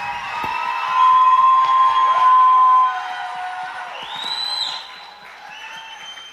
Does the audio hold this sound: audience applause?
yes